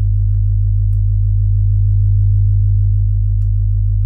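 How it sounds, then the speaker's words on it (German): A synthesized sub-bass signal produced in Bitwig: one steady, deep, pure tone holding loud and unbroken for about four seconds, with no talking. "okay, da ist ein Sub-Bass"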